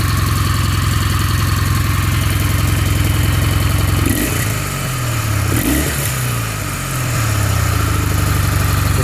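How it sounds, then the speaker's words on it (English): A 2011 Kawasaki W800 motorcycle with its standard exhaust drilled with a couple of small holes runs steadily nearby, a loud, even throbbing idle with two brief throttle blips in the middle. "That's the standard exhaust with just a couple little holes drilled."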